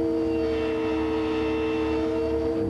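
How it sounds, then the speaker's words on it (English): A locomotive air horn blasts steadily from close by in West Auckland, one loud sustained multi-tone chord that holds for the whole stretch with no voices. "Pat Duff, the locomotive engineer, actually sounded the locomotive horn"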